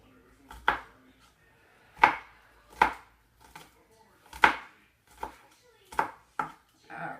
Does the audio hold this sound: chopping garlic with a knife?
yes